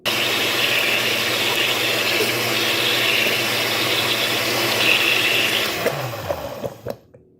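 A blender blending cashew cream with added water roars steadily for about six seconds with a whirring, liquid churning tone, then winds down and stops, leaving a few small clicks.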